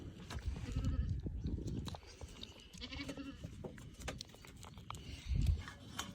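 Goats bleat and shuffle in a barn pen while a rejected kid nurses from a different doe, the calls loud and close in several bursts with a strong one near the end, over steady rustling.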